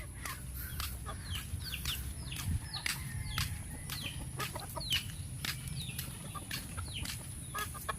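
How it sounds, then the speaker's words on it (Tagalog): Chickens on a pig farm cluck repeatedly in short, sharp bursts as they follow along, fairly close, over a low rumbling background. "sige sunod pa kayo mga manok sige bilisan nyo"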